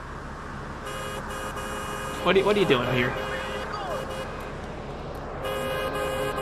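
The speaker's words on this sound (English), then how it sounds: "They love honking." Car horns honk in a video game with a cops-and-wanted-level system, a burst of overlapping toots in the middle of the clip over steady traffic ambience, with a person talking.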